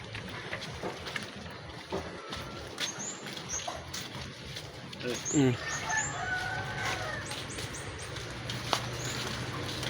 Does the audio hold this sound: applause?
no